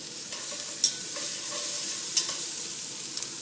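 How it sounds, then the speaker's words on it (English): Collard greens soften in a pot over medium heat, giving a quiet, even sizzle with a few light scraping taps as they are stirred. "Okay, just give them a little bit of a stir."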